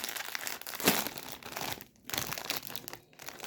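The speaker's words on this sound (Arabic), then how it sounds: "نفتح الكيس رقم 6" A crinkly plastic bag of cheese-flavoured snacks is torn open and handled, giving continuous dense crackling and rustling with one sharp rip near the start and brief pauses in between, close and fairly loud.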